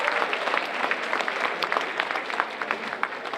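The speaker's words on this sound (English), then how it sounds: "let's give those guys a nice round of applause." An audience at a school gathering gives a round of applause, a crisp burst of many hands clapping with audible individual claps, moderately loud and without speech.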